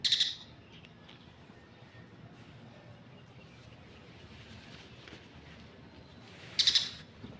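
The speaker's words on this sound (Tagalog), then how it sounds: "ganda ng tunog ng ibon, oh. Kumakanta yung ibon." A bird gives two short, high calls, one at the start and one near the end, over a quiet outdoor hush.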